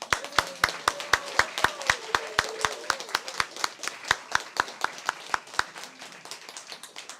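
A crowd claps for newly sworn-in American citizens at a library naturalization ceremony, with steady, brisk, close hand claps that go on for several seconds and thin out toward the end.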